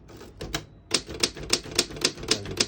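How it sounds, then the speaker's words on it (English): Keys striking on a 1936 Underwood 12 antique desktop typewriter, a steady run of about seven crisp, close mechanical clacks after a few lighter taps, with no talking. "So if you hit the margin release, it will allow you to keep typing."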